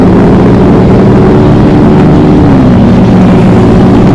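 Honda Vario automatic scooter engine revs loudly at a motorcycle gathering, a harsh sustained roar heard close and heavily saturated, with no talk over it.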